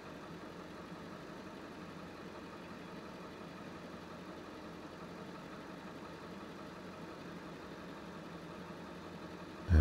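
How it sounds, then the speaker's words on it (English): A train idles at a station, producing a low, steady rumble that holds evenly throughout, quiet and continuous, with faint background activity and a sudden thump at the very end. "The familiar sound of inaudible footsteps and chattering is heard through the low volume of the idling train."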